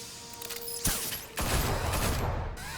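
Gunfire in the Batman Telltale video game, a sudden loud burst of shots followed by a second dense volley of rattling fire and mechanical clatter over a music bed.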